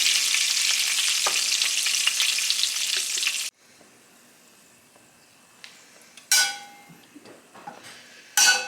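Eggs frying in a pan with butter, a loud steady sizzle for the first few seconds, then a quieter, softer crackle broken by a few sharp bursts of spatter.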